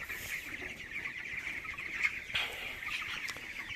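20-day-old chickens cluck softly and continuously as they feed, over a steady background hiss, with occasional sharper calls from the flock.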